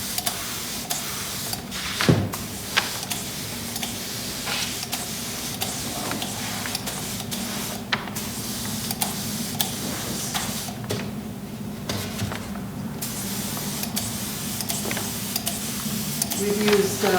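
A paint sprayer hisses over a carved foam sculpture in repeated short bursts, with brief pauses between them and clicks and mechanical noises around them, close and fairly loud.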